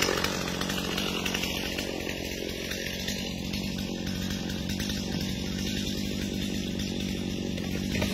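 A Stihl MS250 chainsaw runs steadily at full throttle, a loud continuous buzzing whine close by, with no talking.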